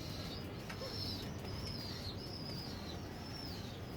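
A household pet pigeon at home gives soft, faint repeated coos in a gentle rising-falling rhythm, about six calls over a quiet background hiss.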